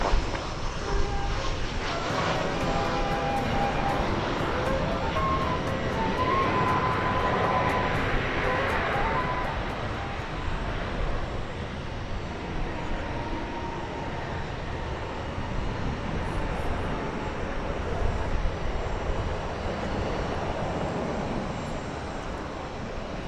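An American Airlines jet takes off from runway 18 left at DFW Airport, its engines a loud, broad, sustained roar that swells and then slowly fades over about twenty seconds.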